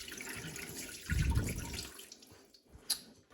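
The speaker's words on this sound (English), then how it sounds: "because we're going to pressure cook this, we need to put some water in" Water poured into a pressure cooker holding a lasagne cake, a brief close splashing burst that fades into a soft trickle, with a small clink near the end.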